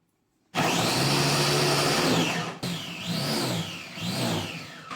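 An electric chopper whirs as it chops carrots for gajar halwa, a loud motor burst for about two seconds followed by two shorter pulsing runs, alone without talk.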